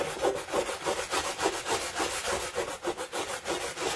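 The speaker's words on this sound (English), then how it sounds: "So I'm going to use the sanding sponge. It's a medium coarse grit just to get this off." Rhythmic back-and-forth scrubbing of a medium coarse grit sanding sponge removing sticker residue, quick regular strokes, close and fairly quiet, with no talking.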